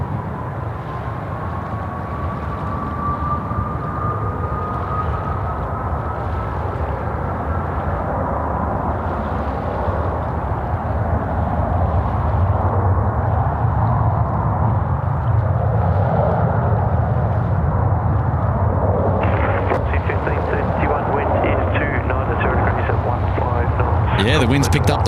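A China Eastern airliner taking off from runway 34 left at Sydney Airport, a sustained broad engine roar at a distance that swells and grows louder over time amid wind buffeting, with people talking nearby.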